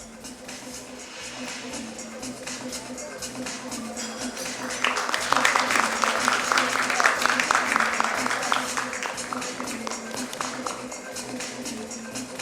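Conference audience at a nursing conclave in a Mumbai hotel applauding, clapping that swells to a louder burst midway and then tapers off, with speech running underneath.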